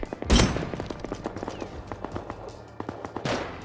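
Bolt-action rifle shot in a video game: one loud, close crack near the start, followed by scattered lighter gunfire pops and footsteps across the rest of the stretch.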